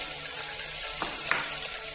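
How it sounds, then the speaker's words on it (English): Steady, close sizzling of onions frying in hot ghee, with a few faint pops and stirring sounds. "we have to add the onions for frying it"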